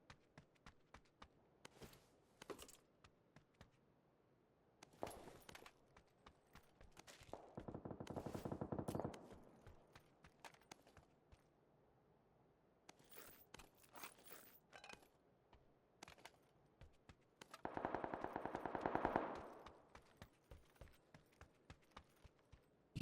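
Uzi submachine gun fire in the video game PUBG, rapid bursts of automatic shots with two longer sustained sprays and scattered single cracks, mixed with sparse footstep-like clatter.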